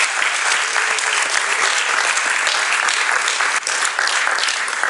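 A church congregation applauds its pastors, a dense, loud, continuous burst of many hands clapping close by, without any talk.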